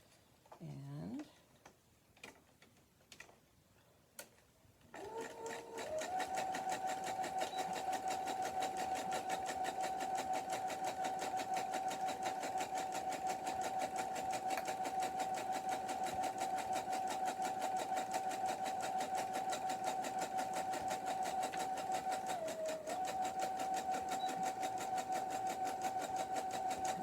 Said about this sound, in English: So I'm just going to sew straight across.